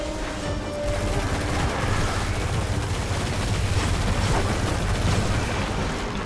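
Rifle fire in the video game Destiny, dense and loud, with booming shots and explosions blending into a continuous roar of battle.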